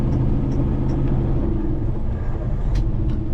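A semi truck pulling a hooked trailer, its engine misfiring as if sucking air, heard from inside as a loud steady low rumble with slightly uneven pulsing and a few faint clicks.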